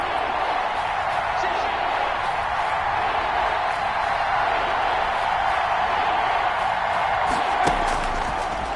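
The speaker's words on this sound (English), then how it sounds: "The crowd getting into it as we come up on a big 3rd down." Steady, broad roar of a large stadium crowd at an American football game building before a big third down, continuous and loud with a commentator's voice faintly underneath.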